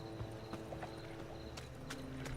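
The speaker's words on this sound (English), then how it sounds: "Just a random horse now," Steady hoof clip-clop of a horse in The Witcher 3 over a constant background hum, with faint clicks; no voices.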